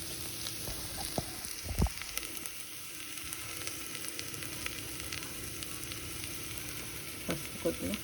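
Tomato, potato and green chilli fry in a pan with a steady, fairly quiet sizzle and a few scraping stirs, one sharp clatter near the start, and no talking.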